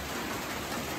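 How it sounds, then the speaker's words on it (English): Pouring rain comes down around a trapper's cabin as a steady, dense, full-band hiss with no breaks and no voices. "I'm gonna have to deal with the pouring rain."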